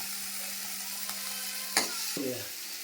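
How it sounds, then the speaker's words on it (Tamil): Tomatoes sautéing in a pan give a low, steady sizzle and frying hiss, with a few brief clatters of stirring toward the end. "தக்காளி நல்லா வதங்கட்டும்."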